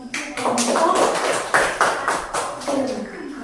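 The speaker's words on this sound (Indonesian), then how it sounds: "Tepuk tangan." Classroom students clap their hands in a dense, steady patter of close claps lasting a few seconds after a group presentation on puberty, with faint voices underneath.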